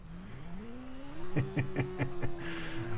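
Video game Watch Dogs motorcycle engine revving: a rising engine tone that climbs over a second, then a quick burst of rhythmic pops and throttle blips before settling into a steady higher drone, moderately loud with no talk.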